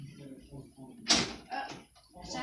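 A door opening, a short loud rattling thud in the middle amid nearby speech and household murmur.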